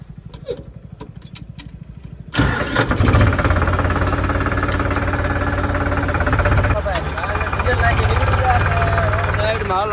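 A diesel tractor engine starts up after a few quiet knocks and then settles into a loud, steady running rumble close by, with a brief voice early on.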